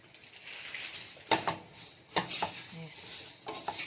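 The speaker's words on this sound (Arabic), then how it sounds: "هقلب لغايه لما الشعريه تحمر خالص معايا" A spoon stirs vermicelli frying in oil in a pot while making Egyptian koshari, with a soft sizzle throughout and several sharp scraping clinks of metal against the pot.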